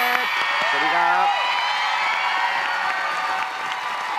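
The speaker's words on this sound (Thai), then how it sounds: "ขอเสียงปรบมือกับน้องลูกเกด" Game show studio audience applauds and cheers to welcome contestant Lukked, a dense, steady wash of clapping and whoops lasting several seconds, with a brief musical sting at the start.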